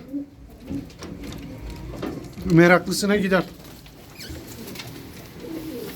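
Pigeons coo nearby in a pigeon shop in Kocaeli, Turkey, a short burst of soft, throaty calls, with someone speaking Turkish briefly in the background.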